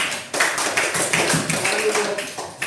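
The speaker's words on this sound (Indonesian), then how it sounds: "Bagus, tepuk tangan buat kelompok." A classroom group applauds a team of students during a maths lesson, a short burst of quick, crowded hand claps close by that thins and fades toward the end.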